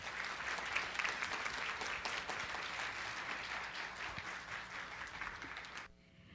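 An audience at a national ceremony honouring outstanding teachers gives sustained applause, a dense, even wash of clapping that holds for about six seconds before fading out.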